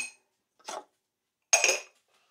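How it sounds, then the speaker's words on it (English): A spoon in a pot of lamb scouse gives three short metallic clinks and scrapes, spaced apart with silence between them, near and fairly clear. "Give it a stir."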